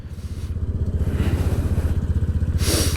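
A motorcycle engine idles and revs in close, throbbing pulses during a beach rider-training session, its rhythmic putter swelling and settling between gear changes, with a brief hiss near the end and no talk.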